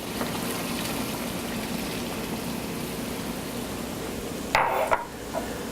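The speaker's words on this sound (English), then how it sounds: "Just add some water over here." Cold water poured into a pan for cooking turkey wings makes a steady, close splashing gush that runs continuously, followed by a brief clatter of the pan near the end.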